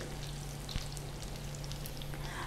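Oil heats in the centre of a hot tawa beside browned beef pasandy, a soft continuous sizzle with faint crackles and a steady low hum underneath, quiet and without talk.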